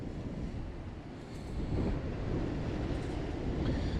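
Blustery seaside wind buffeting the microphone during a squid-fishing outing, a dense low roar that swells and stays loud and steady, with no one speaking.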